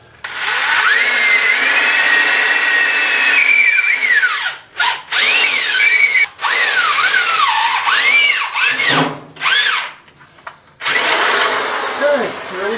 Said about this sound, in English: we're going to try to drill it.